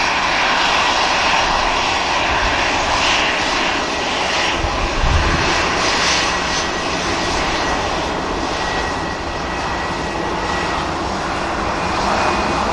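An airliner departing Manchester Airport for Paris, its jet engines producing a loud, broad continuous roar close by that holds steady throughout, with no voices over it.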